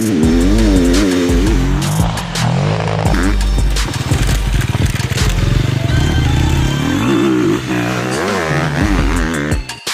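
A 2020 250cc four-stroke enduro motorcycle engine, from a group including Honda, KTM, Husqvarna, Sherco and TM, revs hard and close. The pitch climbs and drops repeatedly as it accelerates and shifts, with clattering underneath and no speech.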